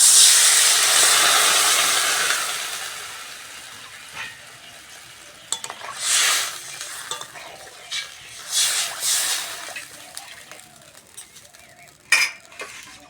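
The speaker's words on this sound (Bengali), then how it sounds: "এইবার জল দিয়ে দেবো" Water poured into a pan of frying potatoes with ginger, garlic, onion and green chilli for a fish curry: a loud hiss and sizzle at first that fades, followed by scattered stirring scrapes and clinks.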